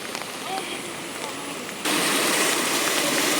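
Steady rain falls during river flooding in Bangladesh, with water above the danger level; a continuous broadband hiss that jumps noticeably louder partway through.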